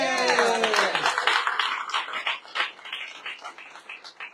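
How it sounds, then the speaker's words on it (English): An audience at a state media event on a drug payment limit breaks into hand clapping right after a voice, a quick patter of claps that thins out and tails off over several seconds. "You ought to give yourselves a hand clap."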